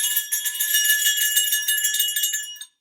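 A bright, high-pitched bell rings continuously with rapid repeated strikes for nearly three seconds, then stops abruptly.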